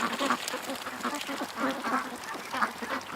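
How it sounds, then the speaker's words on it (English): A flock of ducks quacks continuously nearby, overlapping calls in a busy, noisy chorus. "watching the ducks"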